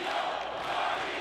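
A wrestling crowd in New York City cheers and roars loud and steady in one continuous swell lasting about a second, with no break.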